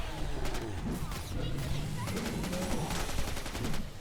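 Rapid automatic gunfire and repeated shots from weapons in the co-op shooter game Killing Floor 2, a dense, continuous barrage with crashes and effects, with players talking over the action.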